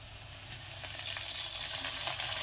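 Chicken masala sizzles and fries in a pan as vinegar is poured in, giving a steady, bright hiss that swells slightly with crackles and stirring, close and continuous.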